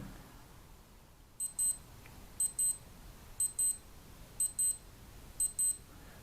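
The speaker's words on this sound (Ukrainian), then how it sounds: "просто послухати, як звучить власне звук будильника." A Casio AW-80 digital watch alarm beeps in quick paired chirps, repeating at a steady rhythm several times, thin and high-pitched against quiet room hiss.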